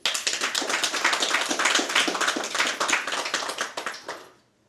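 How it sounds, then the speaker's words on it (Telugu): A small audience claps for a meditation master, a brisk, close burst of many hands clapping together in a quick steady rhythm for about four seconds before stopping abruptly. "ఈ మాస్టర్కి గట్టిగా చప్పట్లు కొడదాం."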